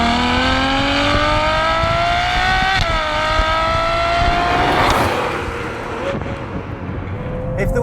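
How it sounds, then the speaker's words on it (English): Ferrari 812 Superfast, a rear-wheel-drive 800 bhp V12, pulls hard with a loud, rising engine howl. A brief shift near the middle resets the pitch before it climbs again, and a rushing surge follows late on. "driving a rear-wheel drive 800 brake horsepower V12 monster of a car"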